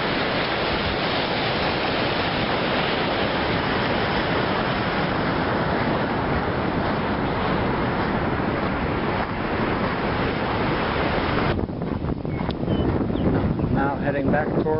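Spanish Creek on California's Lost Coast Trail rushes in a steady, loud broadband wash, near and constant, with a voice speaking briefly over it near the end.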